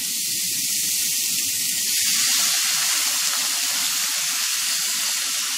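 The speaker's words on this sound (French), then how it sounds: "Donc on va déglacer légèrement avec le vinaigre." Oyster mushrooms sizzle loudly in a hot pan after a splash of vinegar, giving a steady, close hiss of frying that stays even throughout.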